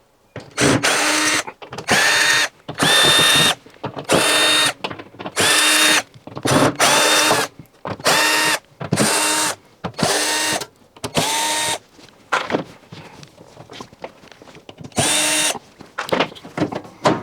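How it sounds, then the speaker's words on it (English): Power drill backing out screws from the rear panel of a built-in integrated Bosch washing machine, a dozen or so short, loud whirring bursts with brief pauses between them, close by and without talk. "Now we'll remove the back panel, screws all the way around."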